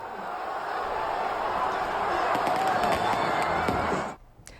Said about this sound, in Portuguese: E a festa da torcida tricolor ainda continua, né?